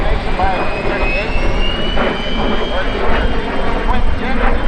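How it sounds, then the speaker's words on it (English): A T-38 Talon twin-jet supersonic trainer makes a flyby at an airshow in London, a loud, sustained jet roar with a steady high whine slowly shifting in pitch across the pass. "Twin-jet supersonic trainer, the world's first supersonic trainer"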